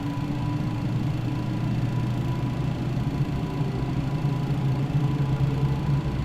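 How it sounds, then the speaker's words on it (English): A TFDi MD-11 airliner's engines in Microsoft Flight Simulator give a steady, continuous low drone with an even idle-like hum and no talk over it. "the engine sounds are really good with this aircraft"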